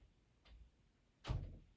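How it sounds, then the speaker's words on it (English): A dog knocks against a door: one faint bump, then a second, louder thud a moment later, both muffled and heard in an otherwise quiet room. "my dog is knocking on my door right now"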